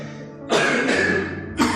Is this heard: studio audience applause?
no